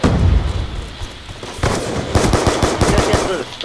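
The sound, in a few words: gunfire in a shooter video game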